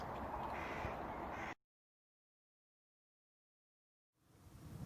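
A magpie calls loudly and harshly for about a second and a half, then falls silent before its rough chatter starts again at the end.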